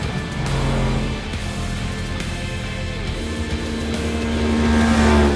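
Polaris RZR RS1 off-road vehicles racing on a championship track, engines droning loud and steady as the pack runs close, revs rising toward the end.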